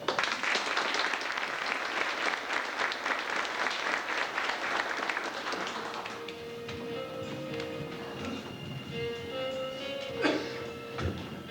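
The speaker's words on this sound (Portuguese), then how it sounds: "recebendo também nossos aplausos" Audience applauds a municipal official, a former employee of Rádio Legendária, at an evening ceremony; dense clapping fills the first six seconds, then thins to scattered claps with faint background tones.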